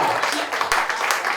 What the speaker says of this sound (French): Un applaudissement pour Lucas.